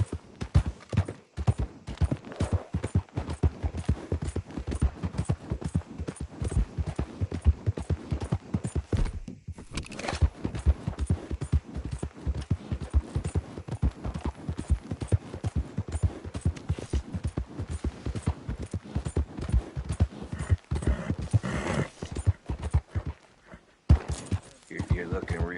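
Horse hooves clip-clop steadily in Red Dead Redemption 2 as a rider travels along, a continuous close rhythmic clatter with scattered distant gunfire and characters talking over it.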